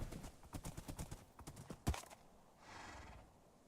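Horse hooves clip-clopping in TerraFirmaGreg, a Minecraft modpack, a quick run of evenly spaced close steps with one sharp louder knock, then a softer hissy stretch at the end.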